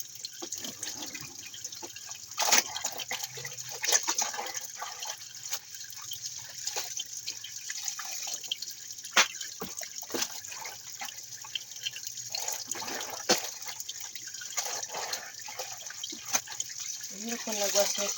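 Water splashes and drips as laundry is rinsed by hand, with irregular sloshing and trickling close by and quiet talk in between.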